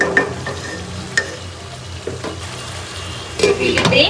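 Potatoes sauté in a pan for curry, a close sizzle punctuated by a few sharp spoon-against-pan clinks and scrapes as they are stirred, growing busier near the end.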